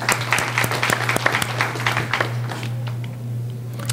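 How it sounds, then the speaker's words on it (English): A room at a legislative listening session breaks into a round of applause for a school-system guest, dense clapping over a steady hum that thins and fades out after a couple of seconds. "Let's give Sheila a round of applause."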